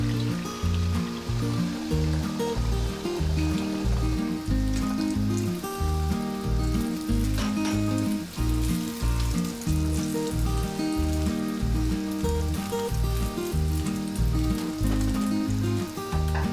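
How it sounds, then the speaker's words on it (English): Three beaten whole eggs fry like an omelette in hot oil in a pan, giving a steady, close, continuous sizzle with crackling spits throughout, alongside faint tonal background music. "in a hot pan add oil and simply beat 3 whole eggs and fry the egg like an omelette"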